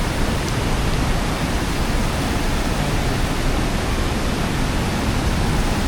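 Waterfall at Tad Maleuat in Laos roars as a steady, dense wash of falling water that fills the whole clip, loud and close with no voices.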